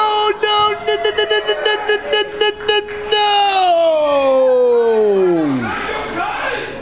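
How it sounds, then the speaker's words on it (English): An air horn honks repeatedly at a live pro wrestling show, bursts of tones followed by a long sustained blast that droops in pitch as it fades, loud over a cheering arena crowd. "Honking that horn."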